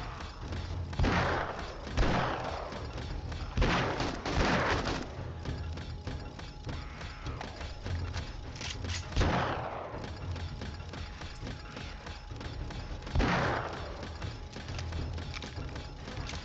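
Scattered gunshots in the survival game 7 Days to Die, a handful of separate loud cracks spaced several seconds apart over a steady low ambient bed.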